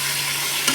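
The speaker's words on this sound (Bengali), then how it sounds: "এখন আমি এই যে মিষ্টি কুমড়াগুলোকে দিয়ে দেবো" Steady frying hiss of a spice paste in oil as sweet pumpkin pieces go in, with a faint stirring scrape and a slight rise near the end; close and continuous, no talking.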